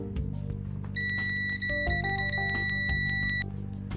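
A UNI-T UT33D+ multimeter gives a loud, steady continuity beep that holds for about two and a half seconds and then stops, heard close up on its own.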